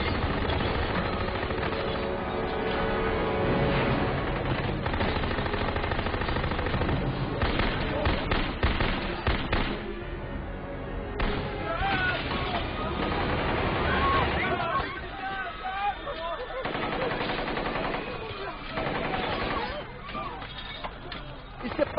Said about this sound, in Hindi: आतंकियों ने बड़े पैमाने पर अंधाधुंध गोलियां बरसानी शुरू की